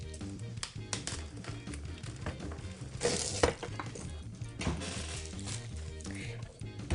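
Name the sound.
unpacking a Gina K Fuse foiling machine from its packaging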